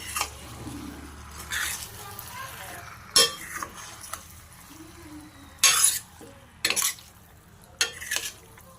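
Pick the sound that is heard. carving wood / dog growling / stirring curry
stirring curry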